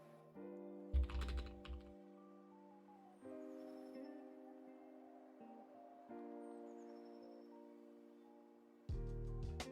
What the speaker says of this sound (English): Give me a second here to type out this message.